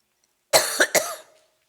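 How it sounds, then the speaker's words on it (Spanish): A woman's short burst of coughing during a church talk: two or three quick, close coughs in about a second, alone with no talk over them. "no solo mi esposa tiene tos"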